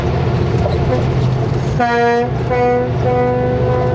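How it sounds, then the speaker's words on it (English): A truck air horn blasts loudly nearby, one long blare followed by shorter bursts, over a rumbling engine and road noise. "And that's how I blow the air horn."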